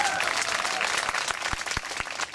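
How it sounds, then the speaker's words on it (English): A street festival crowd watching a sword-swallowing contortionist applauds in a full, dense burst, thinning into a few distinct loud claps near the end. "that tokenistic clap was pretty shithouse, so I'll give you a proper one as you leave"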